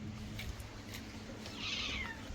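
A cat meows once or twice near a fish-cutting spot, a short rising call standing out over steady background noise.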